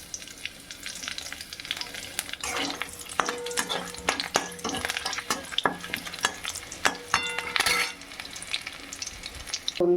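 Cut potato, radish stems, radish, carrot, brinjal and flat beans frying for chorchori, crackling and sizzling in a pan with repeated stirring scrapes and clatters of a spatula, close and busy, no talk.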